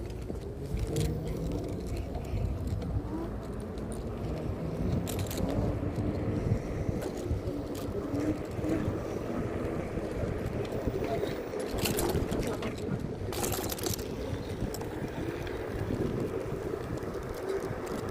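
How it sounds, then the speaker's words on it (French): An electric scooter rides under motor power at about 60 km/h, giving a steady rumble of road and wind noise with occasional bumps and rattles for the whole stretch. "Bon là je suis avec la e-scooter en moteur"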